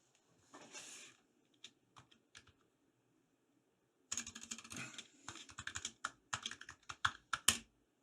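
Someone types a password on a Razer Huntsman Mini keyboard, starting with a brief burst and a few separate key taps, then a quicker run of crisp, close clicks that ends in a few louder strokes, with no talk.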